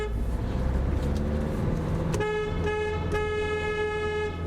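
On a French road, a car horn blares in a loud sustained honk with a short second blast, heard close over the low hum of traffic.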